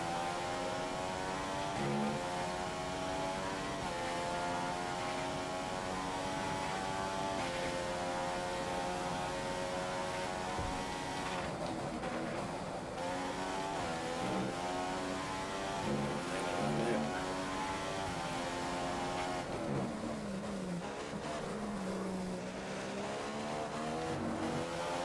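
F1 2015 race cars on a track, high-pitched engines whining continuously with rising and falling revs as cars run together, several passes audible, no talk.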